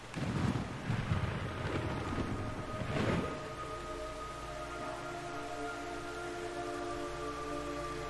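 A thunderstorm in Metal Gear Solid 3 rumbles with low rolling thunder over steady hissing rain, fading into a sustained low drone with faint tonal hums.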